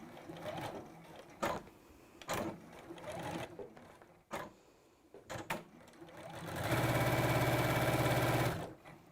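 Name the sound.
sewing machine stitching a side seam of a garment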